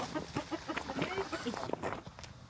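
Chickens cluck and chatter in quick, scattered calls nearby, mixed with a voice speaking underneath.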